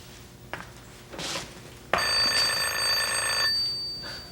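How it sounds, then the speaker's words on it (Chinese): A telephone rings indoors in a Taiwanese-language domestic drama, a sustained bright electronic ring of about one and a half seconds after a few short knocks and rustles, loud and close with no talk over it. "是啥敲电话来哦？"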